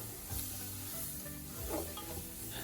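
Onions and annatto powder sizzle in a pan for a Filipino kare-kare oxtail and beef tripe dish, a steady close frying hiss with light stirring scrapes and no talk.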